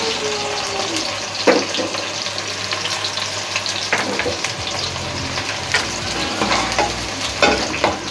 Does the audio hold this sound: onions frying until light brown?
yes